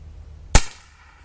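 A single rifle shot from an original 1892 Winchester chambered in 32-20 at an outdoor range: one sharp, fairly light crack with a short decay, heard alone with no voices.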